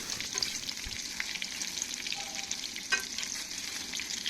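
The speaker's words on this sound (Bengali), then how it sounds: "তারপরে উল্টে পাল্টে গোল্ডেন করে ভেজে নেব" Chicken balls made with an egg-based mixture fry in oil, giving a steady fizzing sizzle with a few soft crackles and one brief clink partway through, close and unbroken, with no voices.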